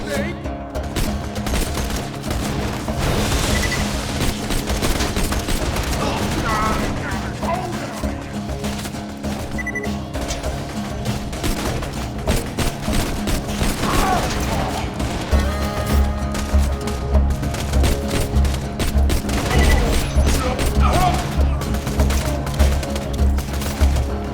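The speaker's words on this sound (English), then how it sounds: "My 2 favorite standard issue assault rifles." Sustained automatic assault rifle fire in the shooter game Borderlands 2, a loud, dense run of rapid shots that continues unbroken over a busy game soundscape.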